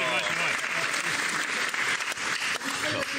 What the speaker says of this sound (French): si elle est bonne, applaudissez